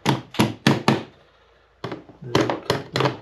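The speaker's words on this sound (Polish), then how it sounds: "oczywiście użyjemy młotka" A hammer taps a metal part during Honda GoldWing GL 1800 fuel filter cleaning: a series of sharp strikes, several in quick succession, then a pause and another run of taps, close and fairly loud.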